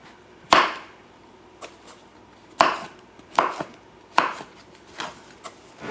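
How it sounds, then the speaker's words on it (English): A knife chops through a mushroom on a cutting board while making chili: several sharp, close chops spaced about a second apart, with no talking. "Probably my last mushroom here I will be cutting for today."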